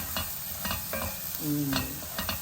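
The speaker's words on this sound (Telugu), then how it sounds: "మన ధనియా పౌడరు అవి కొంచెం వేగిపోయాయి కదా నూనెలో" Coriander powder and other spices fry in oil for palak paneer, with a close, soft sizzle broken by a few quick scraping stirs of a spoon in the pan.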